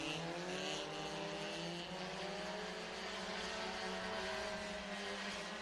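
Sprint car engines roar steadily from a pack racing on the Sunset Speedway Park track during a Western Sprint Tour event, dense, continuous and loud with layered overlapping tones.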